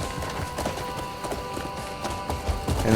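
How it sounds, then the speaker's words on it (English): Horse hooves clip-clop in a steady walking rhythm in the video game Crimson Desert, close and fairly clear, a faint thud on each step with no talking. "And then I'll sprint with the horse."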